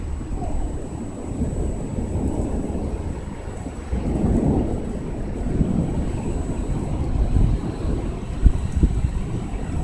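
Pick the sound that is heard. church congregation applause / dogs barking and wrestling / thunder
thunder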